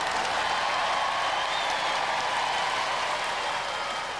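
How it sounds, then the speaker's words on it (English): A steady wash of applause from a studio audience at a Robot Wars Extreme Warriors robot combat taping, even and sustained throughout, heard at a moderate distance with no talking over it. "Let's have a nice round of applause for both these teams."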